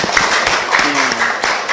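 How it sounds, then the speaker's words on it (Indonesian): Classroom of students applauding a classmate named Rafa, a short burst of quick, fairly loud clapping with a voice speaking over it. "tepuk tangan buat Rafa dulu"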